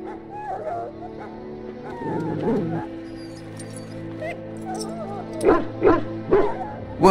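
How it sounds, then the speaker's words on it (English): A dog in a pen in the video game Dragon Age Origins gives a few short, close barks and yips near the end, after a stretch of low whimpering and game ambience with a tonal drone. "Now I can treat the dog properly, poor fella."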